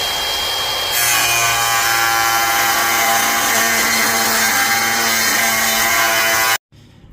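A loud, continuous grinding and cutting noise runs steadily for several seconds as a power tool cuts off part of a BMW E39 530i brake shield, then stops abruptly.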